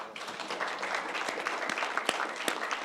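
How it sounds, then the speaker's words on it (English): Applause from an audience for the speakers at a panel on genetic testing regulation, soft dense clapping with a few sharper nearby claps, no voices over it. "A round of applause for the speakers."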